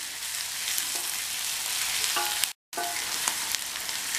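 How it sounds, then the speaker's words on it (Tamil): Onions fry in a pan for a spicy tamarind kara kuzhambu, a steady loud sizzle with occasional faint stirring clicks, cut briefly by a moment of silence before the frying resumes. "இந்த வெங்காயம் நல்லா வதங்கட்டும்."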